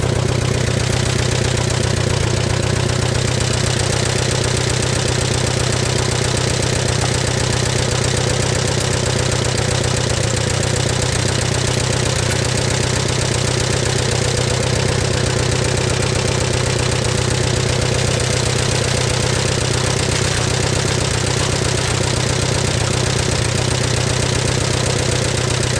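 An Allis-Chalmers B tractor engine idles steadily at close range, a loud, continuous low rumbling chug with an even knock that holds without pause throughout.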